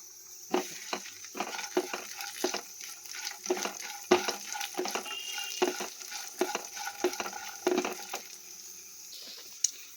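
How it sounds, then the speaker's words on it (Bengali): Homemade lentil bori fry in a pan under a quiet, continuous sizzle, broken by repeated clacks and scrapes from stirring for about ten seconds, with no voices. "এখানে দেখুন বড়ি কটা ভেজে নিলাম।"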